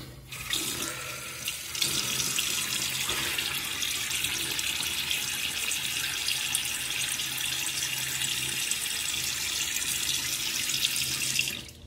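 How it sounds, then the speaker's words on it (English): Bathroom tap running steadily into a sink to wet the face before a shave, a continuous close hiss of flowing water with faint splashing, lasting the whole time and stopping abruptly at the end. "So, let me get my face wet."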